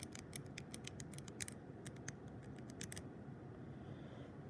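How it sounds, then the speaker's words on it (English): An iron nail scraped across a mineral sample during a hardness test, producing quiet, sharp, rapid scratching strokes in short bursts over faint background hiss, then falling still. "the iron nail you want to hold kind of like a pencil, and you want to see if you can scratch"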